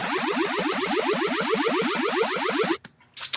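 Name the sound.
laser synth riser slowly pitched up, switching to double time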